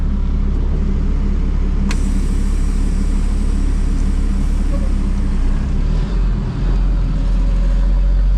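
Heavy grading machine working a dusty new tee box cut into the woods, a steady loud low engine rumble running throughout with a sharp change in tone near the two-second mark.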